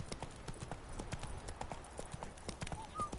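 Rapid hoofbeats of a galloping horse in The Witcher 3 drum in a steady, continuous rhythm, loud and close, with a faint voice under them.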